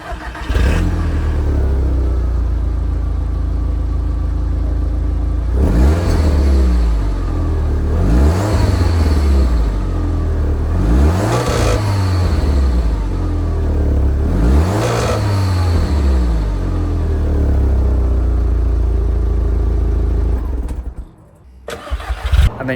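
An Audi TT 225 Mk1 on its completely standard resonated exhaust with stock cats idles, then revs four times in even, loud, close blips before settling and cutting off near the end.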